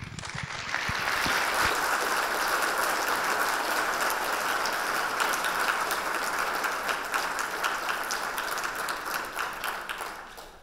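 Sustained, steady audience applause welcomes lecturer Gary Lynch at a neuroscience talk, a dense wash of clapping that holds for about ten seconds before tapering off at the end.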